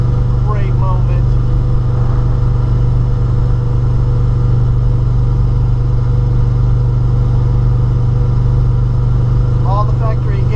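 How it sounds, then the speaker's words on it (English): A 1972 Chevy C10 with a 454 big block and Holley Terminator X Max EFI cruises along, its engine a steady low drone heard from inside the cab. "getting our C10 back to the house after the Terminator install."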